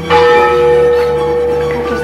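Church bell ringing from a bell tower, a loud sustained metallic strike with long ringing overtones that slowly decay.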